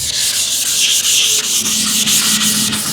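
Block sanding car body filler with 320 grit sandpaper during dent repair, a loud, continuous close-up scratchy rasp in quick, even back-and-forth strokes with no pauses.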